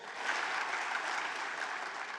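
An audience at the Newport News State of the City 2022 gathering applauds city council members, many hands clapping in a full, continuous roar that holds steady throughout.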